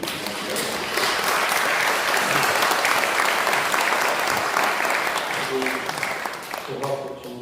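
Audience at a Yonsei alumni prayer breakfast applauding loudly and continuously, a broad roar of many hands that swells after a moment and tapers near the end.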